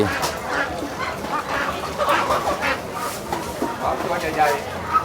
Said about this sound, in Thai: ไปดูเป็ดไก่ครับ